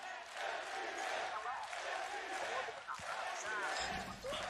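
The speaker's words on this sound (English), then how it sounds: "I think the crowd has their favorite." A large arena crowd at a Valorant esports match between OpTic and FPX at Masters Copenhagen roars and cheers continuously in the background while a commentator talks over it.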